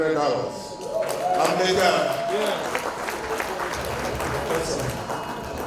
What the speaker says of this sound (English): Please, round of applause for them.